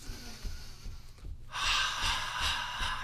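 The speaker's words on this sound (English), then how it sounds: "Nice deep breath." A deep breath drawn in and released in a long exhale during a live Qi Gong class, close and alone, the exhale rushing out more loudly than the inhale.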